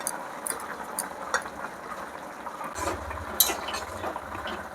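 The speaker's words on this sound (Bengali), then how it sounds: "মাছের ঝোলের জিরা বাটাটা দিয়ে দিলাম রান্না হওয়ার দিকে" Fish curry with cumin paste simmering on a stove, a steady bubbling and light liquid churning close by with a few soft clinks, no voices.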